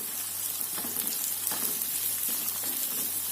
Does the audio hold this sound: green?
yes